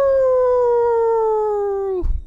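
A single long, loud, close howl from wolves, holding a steady wavering pitch for about two seconds before sliding down and breaking off into a short rough rumble.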